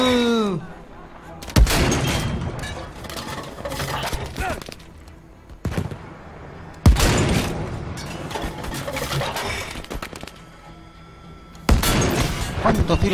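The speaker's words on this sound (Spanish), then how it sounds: "Tenemos un cañón de campo." Battlefield 5 field cannon fire rings out in three loud, booming blasts a few seconds apart, each trailing into rumbling battlefield noise, with someone talking excitedly between shots.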